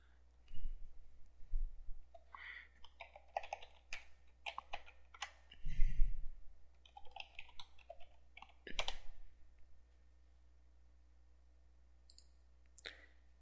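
Computer mouse clicks and scattered keyboard taps come in sparse, sharp bursts close to the microphone, with a faint hum and some quiet gaps between them.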